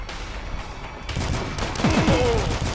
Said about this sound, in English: who the hell just shot at me?